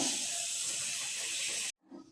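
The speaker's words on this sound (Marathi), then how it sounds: "कुकरच्या शिट्ट्या झालेल्या आहेत" A pressure cooker on a stove lets out a long, steady hiss of steam after its whistles, loud and continuous, then cuts off abruptly near the end before faint room noise returns.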